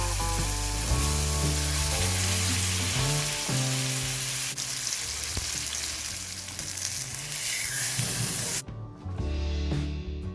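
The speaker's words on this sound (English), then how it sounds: "Then shallow fry the fish in coconut oil." Steady, loud sizzling and hissing of fish shallow-frying in hot coconut oil, continuous throughout with low background music and a brief dip near the end.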